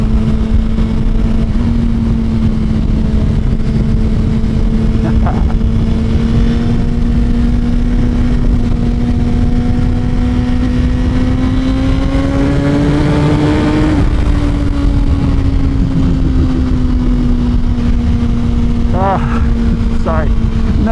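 Suzuki GSX-R1000 sport bike engine pulling hard while riding, a steady loud droning note that climbs in pitch, peaks, then drops and settles, heard close with wind rush and no talk.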